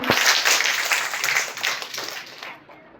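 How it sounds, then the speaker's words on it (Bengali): An audience claps at a school prize-giving for an Eid-e-Milad-un-Nabi event, a dense burst of applause for about two and a half seconds that then quickly dies away. "হাততালি দাও সবাই, হাততালি দাও।"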